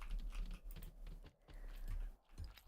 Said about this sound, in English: It's the sounds from Stardew. It's probably mining or,